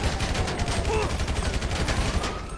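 Rapid bursts of GTA V police gunfire crackle in a dense, continuous volley, loud and close, with no pauses.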